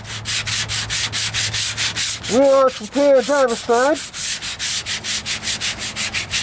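Finish sanding with 220-grit paper on the driver's side wheel arch of a 1998 Ford Ranger: steady, rhythmic back-and-forth strokes rasp up close throughout, with someone speaking briefly in the middle.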